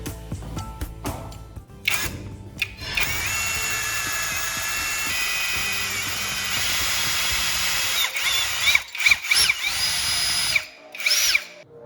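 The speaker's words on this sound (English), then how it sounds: "I determine the center of this piece and drill a hole." A power drill whirs steadily for several seconds, close and loud, its pitch shifting as it bites into a piece of wood, then stops.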